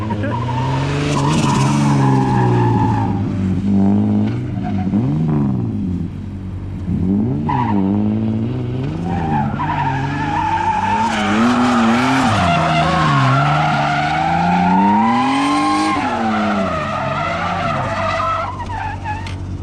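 A Nissan S13 drifting on a street gives loud, sustained tire squeal, wavering and rising in pitch as the car slides and spins out, with the engine droning beneath throughout.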